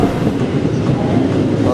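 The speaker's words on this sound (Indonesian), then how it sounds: "Banyak tantangan dan cerita unik ketika Tegar merekam kereta api di stasiun" A train rolls through a railway station in Indonesia, loud and close, with rumbling wheels and a clickety-clack rhythm over a short stretch.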